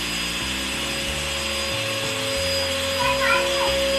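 A household vacuum cleaner runs steadily with a loud, constant motor whine and a tonal hum, its pitch and low rumble shifting slightly as it moves across the floor.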